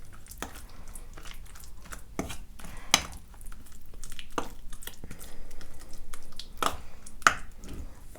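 Thick paste being stirred in a bowl, with soft wet squishes and scattered clinks of a utensil against the bowl at an irregular rhythm, close and fairly quiet.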